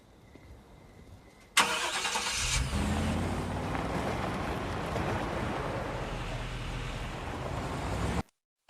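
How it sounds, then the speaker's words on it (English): A car engine starts up abruptly and runs steadily and loudly as the vehicle pulls away, a continuous close rumble with broadband road and wind noise lasting several seconds before cutting off. "before getting into a car and driving off"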